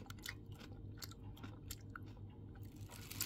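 Homemade kimjang kimchi being eaten close up, with repeated soft crunching and chewing bites running steadily through the clip, no talking.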